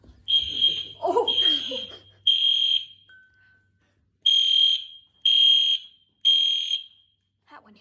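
A church fire alarm sounds in a hallway with piercing, high electronic beeps in regular on-off bursts, loud and echoing. People call out and talk over the first few blasts.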